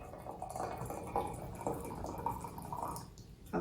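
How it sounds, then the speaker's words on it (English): Hot water poured into a teapot makes a steady, close trickling fill with small splashes and drips, fairly quiet throughout. "I'll just go ahead and fill it up"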